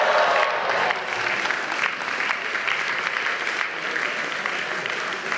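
Sustained applause from a large crowd at the Central European University graduation ceremony for the class of 2024, a dense, even roar of clapping that swells briefly at the start and holds steady throughout.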